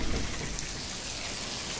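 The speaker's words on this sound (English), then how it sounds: "then it started raining" Heavy rain pours down in a dense, steady roar, close and loud with no pauses and no voices over it.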